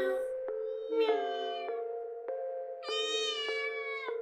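A voice imitates a cat in a horror story, repeating meows in several drawn-out harmonic cries over a steady tonal background, fairly close and moderately loud, with no talk.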